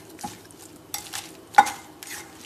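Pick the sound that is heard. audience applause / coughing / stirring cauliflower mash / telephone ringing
stirring cauliflower mash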